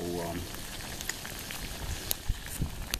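Steady patter of rain on a surface, with a few sharper drops and crackles standing out, and a brief voice at the start.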